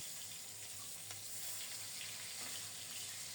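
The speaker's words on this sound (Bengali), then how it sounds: "এদিকে মাছও এক সাইড ভাজা হয়ে গেছে উল্টিয়ে দিচ্ছি" Fish frying in a pan gives a faint, steady sizzle and hiss with no clear breaks, heard alone and quietly.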